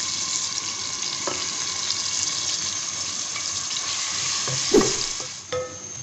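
Steady sizzling and crackling of ginger-garlic paste frying in hot oil, continuous throughout, with a couple of faint utensil clinks.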